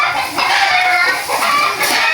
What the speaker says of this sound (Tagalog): Maingay ng manok.